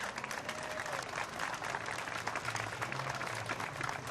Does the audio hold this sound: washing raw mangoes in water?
no